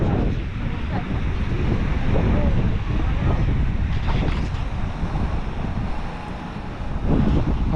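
Strong wind roars steadily across the microphone on the Sirius embankment pier, a dense, loud, continuous rush with faint surf beneath and someone speaking briefly.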